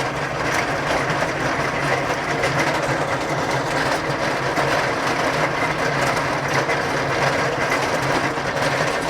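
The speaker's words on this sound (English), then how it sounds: "You can kind of see how I'm scratching the surface pretty loud." Steady, loud mechanical grinding and rumbling of a tractor pulling a Frontier box blade, its metal scarifier tines scraping across a gravel driveway, continuous without pauses.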